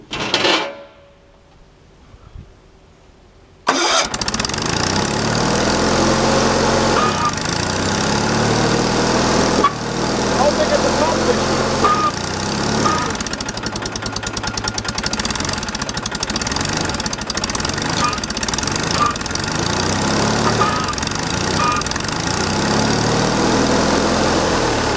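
A wood splitter's small gas engine runs steadily and loudly after starting up, a continuous near engine drone with a faint knocking rhythm, briefly quiet at the start before the engine noise fills the rest.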